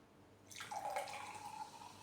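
Monster Energy Ultra Fiesta Mango drink poured into a glass, a short liquid trickle starting after a quiet moment with a bright splashing tone, close and soft, no talking.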